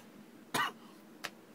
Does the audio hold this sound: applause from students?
no